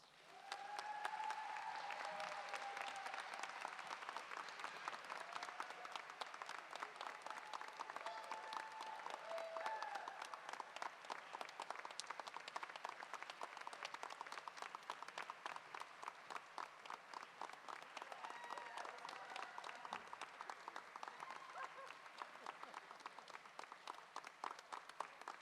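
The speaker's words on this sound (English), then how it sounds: "Please give Karen a hearty round of applause." Sustained applause from an audience at a nurses pinning ceremony, many hands clapping steadily and fairly distant for about 25 seconds.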